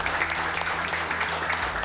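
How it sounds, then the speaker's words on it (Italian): Steady, dense applause from an indoor audience at an Italian festival semifinal, clapping in thanks to the technical crew. A continuous wash of many hands with no talk over it. "facciamo un applauso a tutti loro che hanno permesso questo programma"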